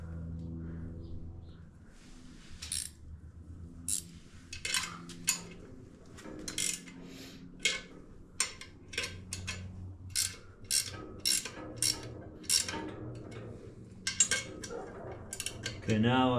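Bolts being tightened on a trailer's air suspension wheel, heard as a run of sharp metallic ratchet clicks and clinks in quick bursts, close by, with no voices.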